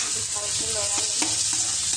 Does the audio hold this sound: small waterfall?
no